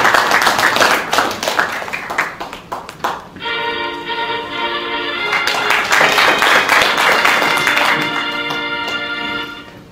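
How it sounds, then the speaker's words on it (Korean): Brisk crowd clapping in the second-floor auditorium of the Korean Christian Building welcomes Kim Seon-dong, Seoul chair of the People Power Party, at a founding ceremony. The claps fade after about three seconds as a sustained tonal musical fanfare swells and carries on. "김선동 위원장님을 박수로 환영해 주시기 바랍니다"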